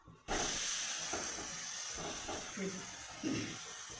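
An uttapam sizzles on a hot pan as it is pressed and flipped. A steady, close hiss starts abruptly and continues throughout, with a faint voice beneath it.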